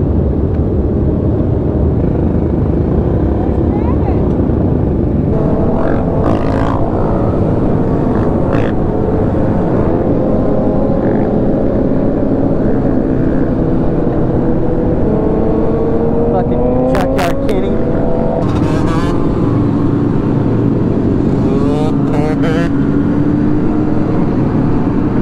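Two-stroke motorcycles revving hard during circle wheelies at an urban street ride, a dense continuous buzz of engines with rising pitch sweeps, some near and loud, under chatter and crowd noise throughout.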